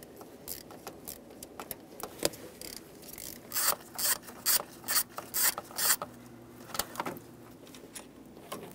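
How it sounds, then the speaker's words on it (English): A 10 mm socket on a ratchet loosening the fuel line bracket bolt on a 2014-2018 Chevrolet Silverado 1500 5.3L V8, heard as a run of close, rasping ratchet clicks in short bursts, fairly quiet, with no talk. "I'm gonna use a 10 millimeter socket and remove the bolt for the fuel line bracket."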